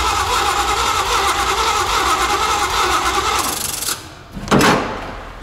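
Nissan Skyline R34 engine cranking and turning over on a test start, a loud steady churn for about four seconds, then a short pause before a sharp surge as it tries to catch.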